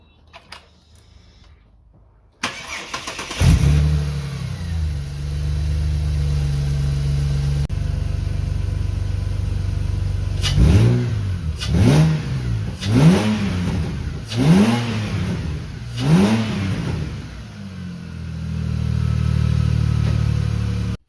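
A Ford Falcon Barra engine with its throttle body relocated cranks and starts, settles into a steady idle, then takes five sharp rising revs before returning to idle, loud and close.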